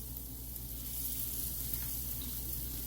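Potato cakes dusted with flour sizzle in a frying pan, a steady soft hiss and crackle of hot oil running evenly throughout, with no one speaking.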